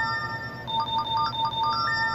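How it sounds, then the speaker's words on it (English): Notification chime on a PlayStation 3 console, a short tonal ringtone-like alert with a few pinging notes over a low steady background hum. "And there comes the notifications I don't care about."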